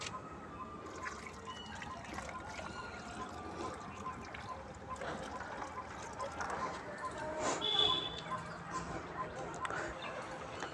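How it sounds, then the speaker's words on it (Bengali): Plain water is poured at the base of a freshly repotted crape jasmine (tagar) cutting grown as a bonsai, making a soft, steady trickle and splash into the soil that swells briefly toward the end. "এবার আমি গাছটার গোড়ায় একটু খালি জল দিয়ে দেবো।"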